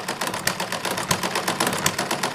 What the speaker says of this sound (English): It's got to be one of the noisiest engines that I've ever built